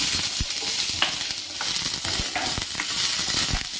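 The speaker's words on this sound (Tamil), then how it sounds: "கடலெண்ணெய் ஊற்றிருக்கோம். அதில் எண்ணெய் காஞ்சிருச்சு. வெங்காயத்தை ஆட் பண்ணிக்குவோம்." Onions sizzling in hot peanut oil for tomato chutney, a close, steady crackling fry with frequent scraping stirs and light knocks of the spoon.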